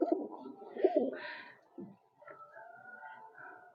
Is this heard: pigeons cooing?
yes